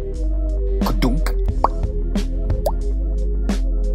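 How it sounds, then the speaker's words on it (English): Cartoon water drops plop one after another in an Adobe Animate splash animation, a series of short, bright drips over a steady low hum. "Oh, water drops."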